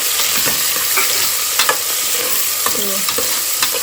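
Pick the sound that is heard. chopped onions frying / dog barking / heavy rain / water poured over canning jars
chopped onions frying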